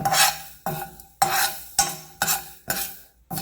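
Fenugreek and mustard seeds dry roasting in a pan, stirred in about six brisk, rhythmic scraping strokes with short gaps between them, close and clear with no talk.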